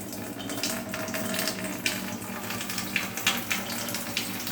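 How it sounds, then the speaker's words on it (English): Water pours into a pot of cooking dal, a continuous splashing gush with a few brighter splashes toward the end. "And add some water to it."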